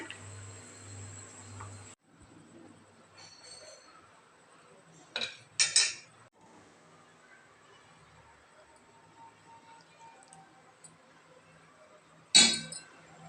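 Mango sambar stirred in a metal pot, with a few sharp metallic clinks and clangs of a spoon against the rim in sparse bursts over quiet background with faint insect chirping.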